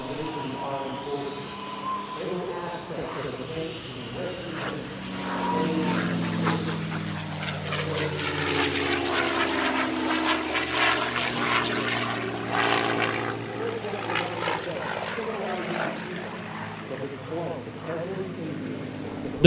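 A P-51 Mustang propeller fighter flies a 16-point hesitation roll at an airshow, its engine drone swelling louder and shifting in pitch as it passes, under continuous talk.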